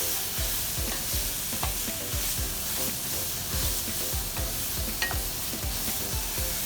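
Burdock root stir fry sautéing in a pan, a constant close sizzle with rhythmic, repeated scraping strokes of a utensil about twice a second, no voices.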